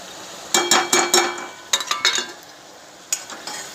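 Chilli powder, homemade black masala, salt and turmeric are roasted with potatoes in a tomato-onion gravy in a pan, heard as short bursts of close spatula scraping and clatter separated by brief quieter gaps.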